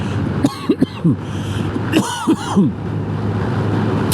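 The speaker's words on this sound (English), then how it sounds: "Still coughing." Two bursts of rough, hacking coughs close to the mic, each a quick cluster of three or so, separated by a pause, over a low steady hum.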